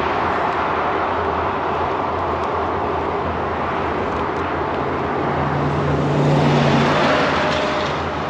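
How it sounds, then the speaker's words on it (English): Dense, steady roar of fast cars streaming past on a busy highway, heard close from a roadside bike route, with a vehicle swelling louder near the end and no talk. "And cars just keep flying by."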